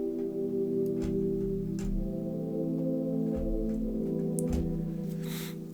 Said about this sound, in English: On the first track we have the pad.